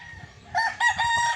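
A two-year-old Golden Raptor gamefowl rooster crows close by, a short, loud, strained call in a few rising-and-falling bursts after a quiet start.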